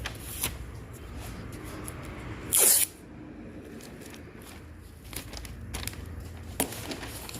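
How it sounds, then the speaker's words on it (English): Adhesion promoter sprays from an aerosol can onto a Ford Explorer rear bumper in a single short hissing burst, with scattered soft shuffling and handling noises before and after. "adhesion promoter in case there's any areas in these contours that didn't get sanded totally properly"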